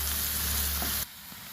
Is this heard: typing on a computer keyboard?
no